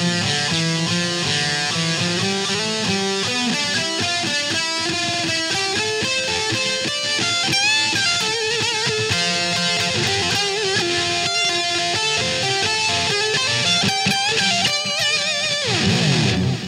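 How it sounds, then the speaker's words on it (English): Bright lead solo on a Daisy Rock Stardust Elite electric guitar through its bridge pickup: fast, dense melodic runs and bends, loud and continuous with no voices, ending in a slide. "You can also switch the toggle switch to your bridge pickup, so you'll get a sound like this."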